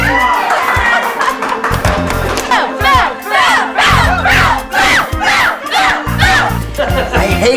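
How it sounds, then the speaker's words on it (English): Crowd at a Groundhog Day gathering, some dressed as groundhogs, roaring with loud cheers, whoops and rhythmic shouted chants that rise and fall in waves, with scattered clapping underneath. "Give him a big round of applause."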